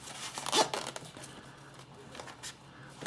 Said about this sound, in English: I will have the zipper.